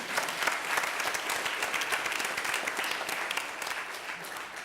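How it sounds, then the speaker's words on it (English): Sustained applause from an audience at a school board meeting fills the room, a dense, even patter of many hands clapping at moderate distance with no break. "I think we can applaud for that."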